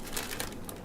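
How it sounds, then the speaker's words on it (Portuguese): A cat crumples a plastic bag on a bookshelf, giving rapid irregular crinkling and rustling that runs continuously at moderate volume, with no voices. "Ela tá até lá amassando uma sacola no meio da estante"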